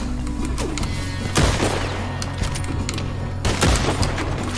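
Gunfire in the Western online game Red Dead Online, with dense overlapping shots and booms in two loud bursts over a steady background of game ambience.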